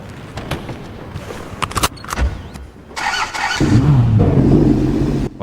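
Rolls-Royce Cullinan in a GTA roleplay game cranks with a few clicks and whirs, catches, then settles into a smooth, fairly quiet idle.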